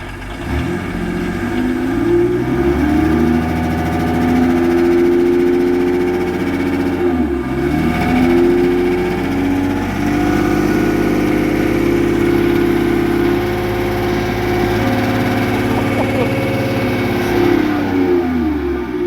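A rear-wheel-drive Volvo demolition derby car with an inline-six engine runs steadily and close by, its rough idle swelling briefly with a few revs, alone with no voices.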